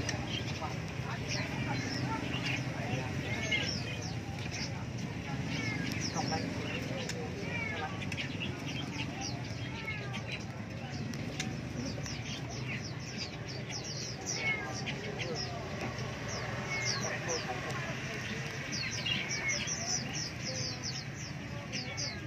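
Many small songbirds, including hwameis, bulbuls and laughingthrushes, chirp and twitter continuously at once at a bird market, a busy layered chorus with murmuring voices and market bustle underneath.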